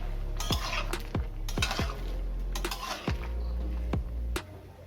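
A spoon repeatedly knocks and scrapes against a metal pot while spices, salt and turmeric are stirred into cauliflower curry, giving a steady series of close, ringing clinks with no talk.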